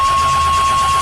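A car engine running on race gas roars loud and steady at close range, a dense unbroken drone with a faint high whine over it.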